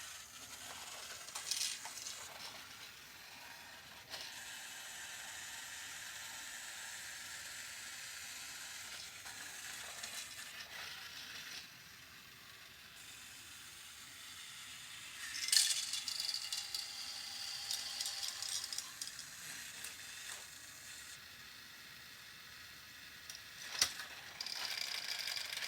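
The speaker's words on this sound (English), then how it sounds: "Here is a video of the 1994 Tomy Big Loader set in action." A motorized 1994 Tomy Big Loader toy set runs its loading station, elevator, ramps and spiral tower, giving a faint, steady whirring hum with scattered rattles and small clicks throughout.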